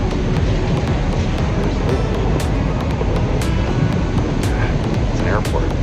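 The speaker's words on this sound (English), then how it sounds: "It's an airport." Busy airport terminal in the early morning, a loud constant roar of air handling and distant aircraft with faint clicks and rattles, heavy wind buffeting on the microphone and muffled voices mixed into the wash.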